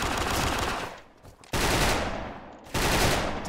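Rapid automatic gunfire from the online shooting game Special Force, loud, dense bursts with a brief lull near the middle and a sharp restart, no talking.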